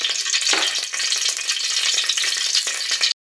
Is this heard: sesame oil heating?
yes